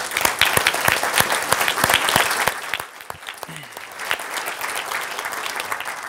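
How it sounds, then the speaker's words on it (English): A conference audience applauds the organizers of the event. The clapping is steady and dense, close and lively, then thins slightly and carries on for several seconds without talk. "kindly ask all our colleagues here to give an applause to Professor Toffer and his team for organizing this event and this initiative"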